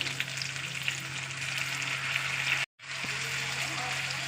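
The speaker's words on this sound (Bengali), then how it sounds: "আমার প্রায় 5 মিনিট হয়ে গেছে ভাজা করছি" Oil sizzles steadily in a pan as fish is fried for a curry with taro and potato, a constant close hiss with a brief drop to silence midway.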